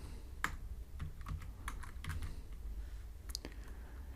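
Computer keyboard being typed on, close by and fairly quiet, with irregular keystrokes and a few sharper clicks over a low steady hum, no talk.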